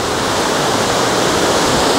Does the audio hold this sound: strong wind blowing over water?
yes